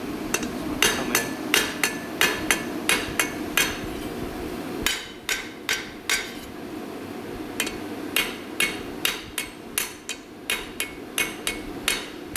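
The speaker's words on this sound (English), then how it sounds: "I've choked way up on the hammer on this for doing this close detail work, and as I'm forging" Repeated hammer blows strike metal during close detail forging with a choked-up grip, ringing in a steady, fairly quick rhythm of sharp metallic clinks. A brief pause falls midway, then the blows resume at the same pace, near and clear.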